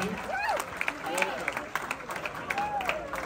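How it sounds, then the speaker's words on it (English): An audience at an annual benefit fundraiser applauds and cheers, with scattered whistles and shouts over steady clapping and background crowd noise. "How about a big round of applause?"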